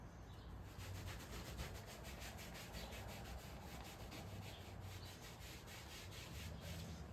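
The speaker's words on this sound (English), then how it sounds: "again, more scrubbing." Tall leather riding boots get scrubbed back and forth to a shine, a close, steady rhythmic rubbing with quick repeated strokes that continue without a break.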